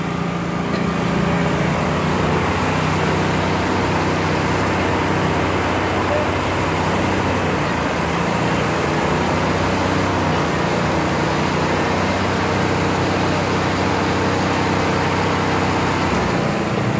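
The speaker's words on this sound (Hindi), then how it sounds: "नीशु देसवाल का ट्रैक्टर पूरे दम लगा रहा है भाइयों" During a tractor pulling contest, a tractor's engine works at full power and holds a loud, unbroken droning roar. Commentary is heard over it.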